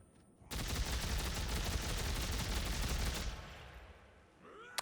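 A rapid-fire rocket weapon in Dead Space 3 unloads a dense, loud burst of continuous gunfire for nearly three seconds, then tapers into fading rumble and debris.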